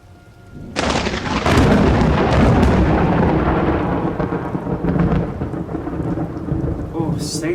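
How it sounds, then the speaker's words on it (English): Torrential rain pours in a thunderstorm, with heavy rolling thunder building after a quiet start and a dense, loud roar of rain continuing throughout. "I haven't seen this much torrential rain since monsoon season in Kenya and Timbuktu."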